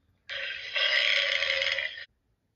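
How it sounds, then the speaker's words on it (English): A bison lets out a single deep, rough, belch-like grunt lasting under two seconds. It is loud and close, with quiet before and after. "A bison goes."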